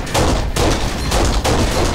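Loud, dense automatic gunfire from the video game Kane & Lynch: Dead Men comes in rapid bursts with brief gaps between them, and no speech over it.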